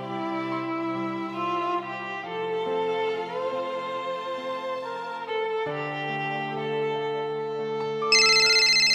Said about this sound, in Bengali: এই অসময়ে আবার কে ফোন করলো?